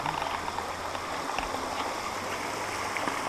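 Steady rushing water from the Maniava waterfall fills the clip, a constant close splashing roar with no breaks.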